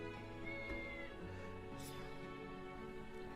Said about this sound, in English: A kitty cat!